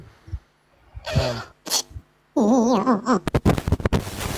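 Several harsh coughs and throat-clearing bursts from a nearby person, spaced unevenly, with a strained, wavering vocal sound in the middle.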